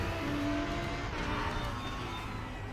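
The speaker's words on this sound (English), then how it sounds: "RaceRoom until this day still has some of the best sounding engines for some cars" A DTM race car engine in RaceRoom holds a steady, loud, continuous drone at near-constant revs, close and alone without talk.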